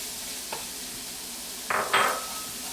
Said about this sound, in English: we want to give the spices just a little bit of a whirl around the pan